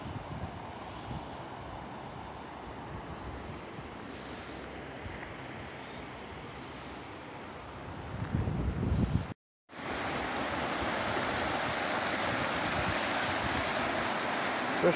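Steady roar of Brush Creek Falls in Mercer County, West Virginia, broad and continuous, with a brief dropout near the middle before the rush resumes.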